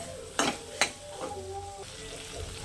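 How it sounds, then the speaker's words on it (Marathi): Beef tripe (vajadi) frying in oil for Kolhapuri vajadi rakti, a low steady sizzle broken by two sharp metal clanks of a spoon against the pot, with a faint voice underneath. "हे बघू शकताय वजडी तेलामध्ये फ्राय झालेली आहे"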